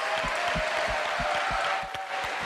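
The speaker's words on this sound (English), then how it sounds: "Cheering frenzy." A crowd applauds at the Halo 4 global championship finals, steady broad clapping with a rhythmic thumping beat underneath, fairly loud and continuous throughout.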